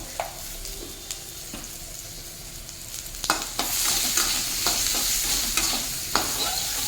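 Vegetables for a Bengali chorchori fry with turmeric, chilli powder and salt in a pan, with sharp stirring scrapes and clatters and a sizzle that grows louder partway through.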